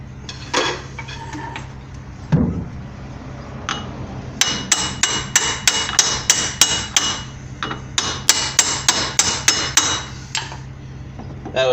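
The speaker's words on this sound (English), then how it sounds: "it doesn't hurt to put something up there to hit. Get that axle pushed out of there." Sharp metallic hammer blows ring out against a Dodge Durango axle in its front wheel hub, a few scattered strikes followed by a fast run of evenly spaced hits, close and loud.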